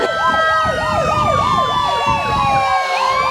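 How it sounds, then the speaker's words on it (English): Fire department brush truck, Unit 1, rolling in the Kingston Christmas parade: a loud, close wailing siren sweeping rapidly up and down in a steady yelp, over engine rumble. "This is their brush truck, Unit 1. They'll send it out first."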